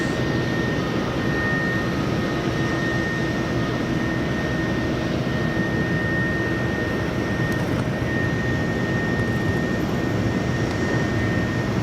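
A British Airways airliner comes in to land at Manchester Airport, a steady, moderately loud jet engine roar with a faint whine, continuous from start to finish with no speech.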